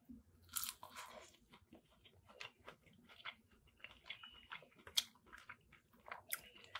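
Close, crisp crunching of teeth biting into crunchy fried fish, followed by a few moments of crackly chewing, with no talking.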